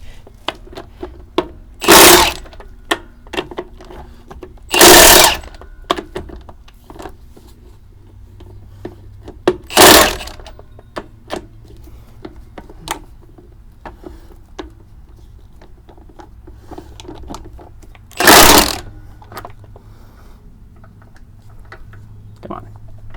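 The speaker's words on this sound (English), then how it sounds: "I'm gonna get my impact wrench again." An impact wrench working on a car lug nut, firing in four loud separate bursts of a second or so each, spaced across a quiet background of small clicks and tool handling.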